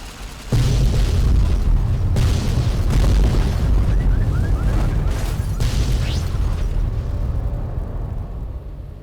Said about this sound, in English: We're going to the Lonesome Road DLC and we're blowing that up now